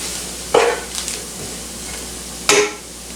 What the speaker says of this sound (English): whisk in flour until lightly browned